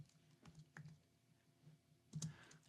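Quiet typing on a computer keyboard: a sparse run of soft key clicks at an uneven pace, ending with a slightly louder cluster of taps, with no talking.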